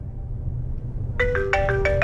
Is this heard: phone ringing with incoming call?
yes